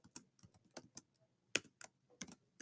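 Quiet, close keystrokes on a computer keyboard typing into the Desmos calculator, an irregular patter of soft clicks with small pauses between short runs.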